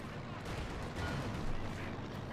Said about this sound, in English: Machine gun routed here.